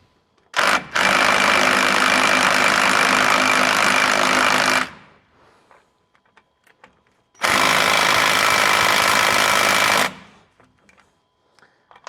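A pneumatic impact wrench with a 15 mm socket works on a wheel of a 2004 Dodge Ram 2500 Hemi pickup, giving two long, loud, rattling bursts of about four and three seconds with a pause between, close up.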